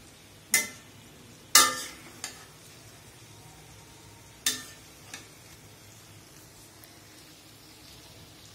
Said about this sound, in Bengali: আমার সবকিছু আবারও ভাজা ভাজা হয়ে গেছে।